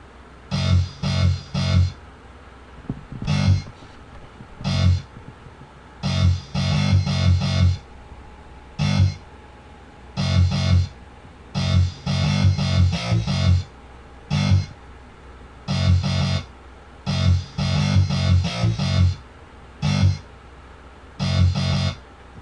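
Dubstep intro passage turned down and drenched in reverb, built from repeating rhythmic bursts of distorted synth sound in a steady stop-start pattern, hinting at the bass line to come, with no voices.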